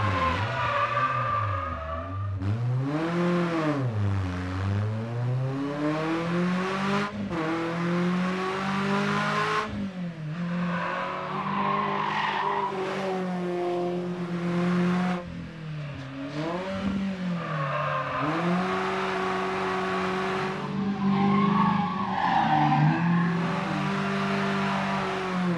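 Renault Spider Trophy on slick tyres driven hard on a wet track, its engine revving up and down repeatedly through gear changes, close and loud for the whole stretch, with no talking.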